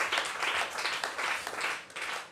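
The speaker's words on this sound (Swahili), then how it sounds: "Ongeza makofi kwa Yesu Kristo tena." A church congregation claps during a worship service, a dense, sustained round of applause rising and falling in several waves with no voices over it.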